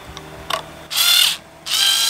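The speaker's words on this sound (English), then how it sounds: "probably the cheapest way to have a nice drill for your guitar tuners and get them unlocked" A low-torque power drill unwinds guitar tuners in two short whirring bursts, close and fairly loud. A few light mechanical clicks come just before them.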